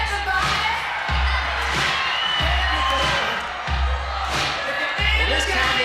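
A keynote audience at a Steve Jobs MacBook Air and iTunes Rentals presentation cheers and whoops in a sustained roar, with swells of applause rising and falling, a voice talking over it at times.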